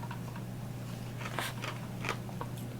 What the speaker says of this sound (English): I swear to God, I'm just chewing another bean.